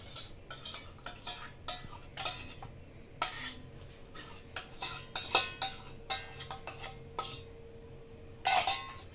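A spoon clinks and scrapes steadily against a bowl as yogurt is stirred into milk, a soft uneven rhythm of small taps with a few louder knocks, close up and without talk.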